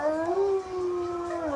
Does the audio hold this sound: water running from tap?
no